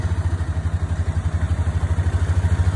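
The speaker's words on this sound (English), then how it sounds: "There's the four wheeler. We're firing it up." A four-wheeler ATV engine starts up in the snow before ploughing, then runs with a close, loud, rapid thumping pulse at a steady idle, with no talking.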